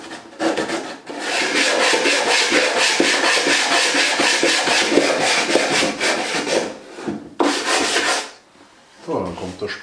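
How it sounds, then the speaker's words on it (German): A sanding block rubs over the rebates of a wooden drawer, making a loud, close, steady back-and-forth scraping that runs for several seconds, breaks off briefly, then resumes in shorter strokes. "ich gehe hier nochmal über die Falze drüber und mit dem Schleifklotz und schaue, dass die auch wirklich schön plan sind"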